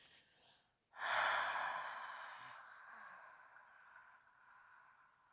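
A single long exhale through an open mouth during a yoga relaxation exercise, a soft breathy whoosh that starts abruptly, close and clear, then gradually fades into quiet.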